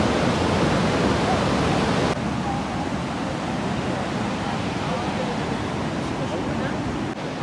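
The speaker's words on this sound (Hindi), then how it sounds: "दरिया कुरान की इतनी तेज़ आवाज़ है, इसकी रफ्तार बहुत ज़्यादा तेज़ है।" A fast-flowing river rushes hard and steadily at a camping spot in Batakundi, its broad, dense roar continuing without a break from start to finish, loud and close.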